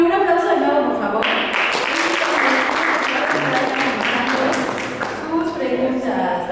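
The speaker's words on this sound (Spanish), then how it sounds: "un aplauso de nuevo, por favor" Audience applause at a talk on sexual encounters and drug use, dense clapping building from about a second in and holding steady, with voices faintly mixed under it.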